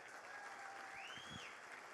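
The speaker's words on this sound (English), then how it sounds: "let's give them a round of applause" Quiet, steady applause from an audience, a brief wash of clapping heard from a distance.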